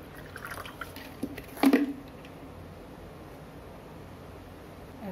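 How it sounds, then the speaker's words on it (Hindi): Water poured into a glass over a few ice cubes and rose syrup, a brief splashing trickle and clink amid quiet background hiss, otherwise soft. "और मैं डाल रही हूँ इसमें पानी।"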